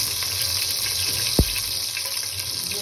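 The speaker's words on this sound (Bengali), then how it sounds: "তেল দিলাম, দেওয়ার পরে একটু জিরা সম্বারা দিলাম" Cumin seeds hit hot oil in a kadai, making a steady broad hiss of sizzling throughout, with one brief sharp tap near the middle.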